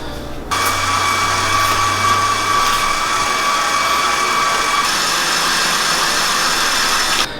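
A meat grinder pushing ground meat into sausage casing for hot dogs runs as a steady, loud mechanical whine with a motor hum, starting after a brief pause and continuing without break, with no talk.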